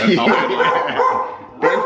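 A dog barks and yips excitedly in welcome as its owner arrives home, with loud close barks mixed with happy whimpers while someone talks to it.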